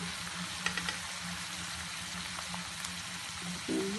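Potatoes and onions fry in a pan for an aloo capsicum curry, making a soft, steady sizzle with faint stirring scrapes and a louder clatter near the end.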